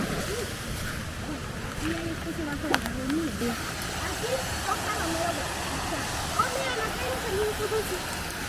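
Water pours steadily over a small dam built to irrigate crops in rural Mexico, a continuous close rushing wash, with someone talking over it.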